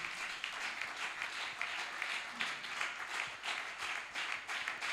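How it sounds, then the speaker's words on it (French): A church congregation applauds together, sustained dense clapping at moderate volume with a rhythmic pulse throughout, filling the room without pause. "On acclame encore le Seigneur en sa sainte"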